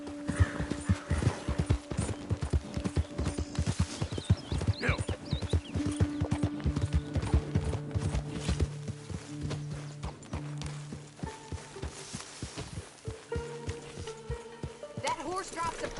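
A horse in the video game Red Dead Redemption 2 clip-clops along in a steady, rapid hoof rhythm, close and prominent, with voices and other game sounds mixed in over the hoofbeats.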